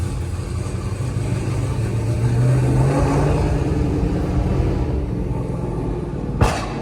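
Dodge Hellcat engine at night, a steady mid-low drone that swells and climbs in pitch as it revs, ending with a short sharp knock near the end, no voices over it.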